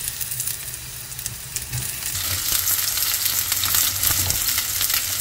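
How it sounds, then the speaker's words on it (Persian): Zucchini rounds frying in a little oil in a pan, a loud continuous sizzle and crackle that swells slightly toward the end, close up with no voices. "بعد کدوها رو داخل مقداری روغن تفت میدن."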